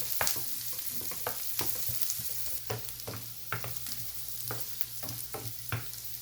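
Beans and vegetables sizzling in a hot pan while a spoon stirs them, steady frying hiss under repeated close scraping and clinking strokes, no talking.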